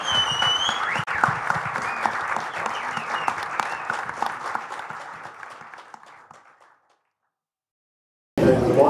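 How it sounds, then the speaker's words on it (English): An audience at a lockpicking conference gives a panel a final round of applause, a full burst of clapping that fades out over several seconds before a brief return of room noise. "Let's give one final round of applause to our panel."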